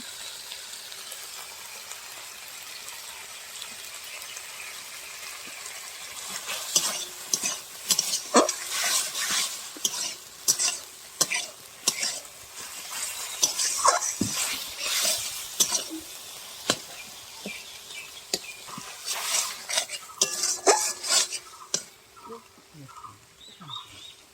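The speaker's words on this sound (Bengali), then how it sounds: "ভালো করে টমেটো মশলা কষিয়ে নেব" Tomato masala is stir-fried in a pan for fish curry, with a soft steady sizzle under repeated scraping and clattering spatula strokes against the pan, louder and busier through the middle.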